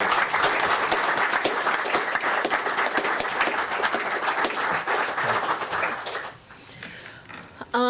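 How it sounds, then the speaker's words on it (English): An audience breaks into sustained applause, dense clapping filling the room for about six seconds before thinning out to a few scattered claps. "I think she's due a round of applause for her efforts"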